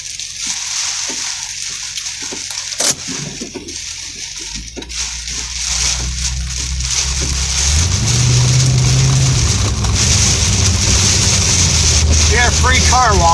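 Constant heavy roar of wind-driven rain during a thunderstorm, growing louder and denser partway through, with a few sharp knocks early on and a brief voice near the end.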